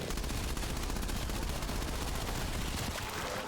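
A PPSh submachine gun fires in Call of Duty Cold War Zombies, a loud, unbroken stream of rapid shots that fills the whole stretch without pause.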